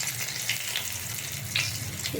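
Green chillies, bay leaves and panch phoron sizzling in hot oil, a close, steady frying hiss with a few brief spatters and stirring clicks, no voices.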